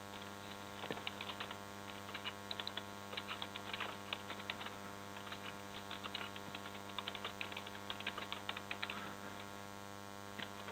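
Soft, irregular keystrokes on a computer keyboard patter in short bursts over a steady electrical hum, quiet and close, with no speech.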